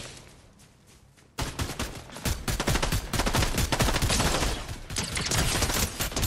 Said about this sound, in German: hier bei mir wird geschossen